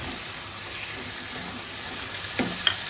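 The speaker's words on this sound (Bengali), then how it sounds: "একসঙ্গে মশলাটাকে কষিয়ে নেবো সামান্য একটু জল আছে এরপরে আমি মাছগুলো দিয়ে দেবো" Spice masala being sautéed with a splash of water in a pan for a prawn kosha, giving a faint, steady sizzle with a couple of brief clinks near the end.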